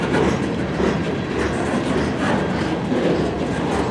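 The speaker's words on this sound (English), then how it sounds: "That is a big train, holy crap. There it goes." A long CN M399 westbound freight train rolls past close by in Port Huron, Michigan, a loud steady rumble of wheels with rhythmic clickety-clack over rail joints and no talk over it.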